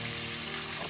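Garlic and ginger frying in a pan for chicken soup, an even, moderately quiet sizzle held throughout with no talking.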